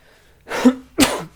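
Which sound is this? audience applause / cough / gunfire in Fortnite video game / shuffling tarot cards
cough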